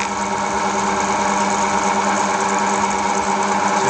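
A Falex friction test machine runs with no oil at all while under load, making a continuous, loud mechanical whine and hum with a steady tonal drone.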